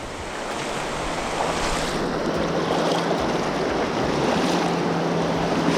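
Strong rushing water of a Jamaican river roars steadily and close, a broad wash of turbulent flow mixed with gusts of wind, no voices.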